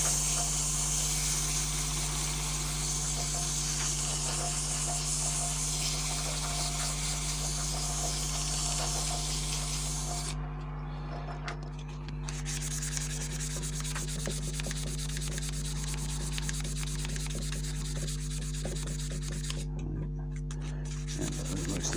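Antler pen blank spinning on a lathe while sanded with 240-grit sandpaper, a continuous close rushing hiss over a steady motor hum, with two brief breaks in the sanding.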